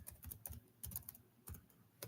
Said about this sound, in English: So right now I'm typing up